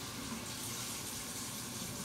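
Water runs steadily from a tap as hands are washed beneath it, a faint, even gushing hiss with no breaks.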